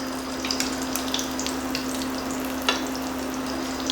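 Lamb brains deep-frying in oil in a pan, a steady close crackling sizzle with a few faint clicks as a piece is turned over.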